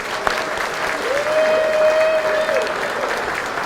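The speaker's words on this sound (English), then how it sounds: "Another round of applause for all the winners." Banquet audience at an awards dinner applauds the winners, a dense, continuous wash of clapping heard from within the room, with a faint tonal sound gliding briefly through it.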